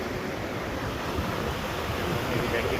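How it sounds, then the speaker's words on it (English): A fast-rushing stream along a hiking trail roars as a dense, steady wash of water noise, loud and close, with wind buffeting the microphone. "that water is just rushing too fast"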